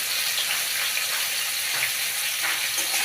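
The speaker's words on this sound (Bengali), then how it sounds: "দিয়ে একটু নাড়াচাড়া করে দিচ্ছি। এটাকে ভেজে তুলে নেব।" Broccoli fries in hot oil with salt and turmeric, giving a steady, even hiss that stays at one level throughout, with no voices.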